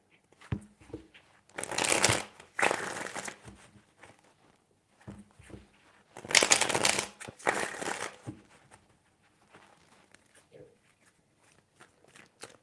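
Tarot cards shuffled by hand in two main bursts of riffling, crisp papery flutters with quieter handling between, close up with no talking.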